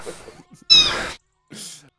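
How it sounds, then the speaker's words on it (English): A kitten meows loudly up close, two distinct cries separated by a short silence, with faint sound before them. "I never heard a kitten that much."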